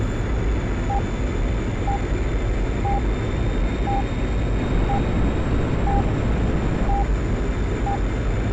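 A MiG fighter jet in a flight simulator game, its engine held at military power just below full afterburner, roaring as a steady, loud, unbroken drone with a regular faint beep repeating about once a second.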